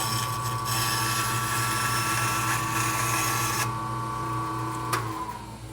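Band saw running at a steady loud whine with a low hum, a cut passing through, then the tone shifting before the motor winds down near the end.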